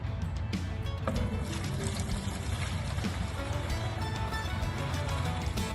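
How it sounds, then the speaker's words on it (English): Maple sap poured from a collecting container into a clean bucket, a continuous close splashing and trickling stream that runs steadily throughout. "You pull it off of the little hook and pour it in here."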